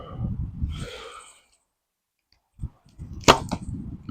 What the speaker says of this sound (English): the actual physical act of drawing and releasing a heavy bow and just hearing it thwack, thump against the target